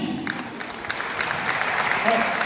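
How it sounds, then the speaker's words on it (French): Audience applause at FIRHO in Burkina Faso for a performer called Docteur Moussokologie, a steady dense patter of many hands with a faint voice mixed in, swelling slightly toward the end. "bien plus d'applaudissements pour ce garçon, docteur Moussokologie"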